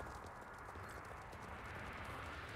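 Horse hooves clip-clop steadily while riding in the video game Star Stable Online, a dense continuous patter of hoofbeats with no talking.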